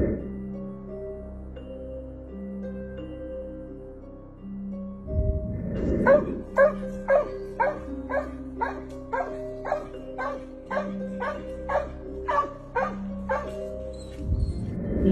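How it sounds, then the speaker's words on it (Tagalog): A dog barks again and again up at a tree, a rapid steady run of sharp yaps and bow-wows starting partway through, loud and close over a low background hum. "tahol ng tahol ang aso sa taas ng puno kahit wala namang naroon"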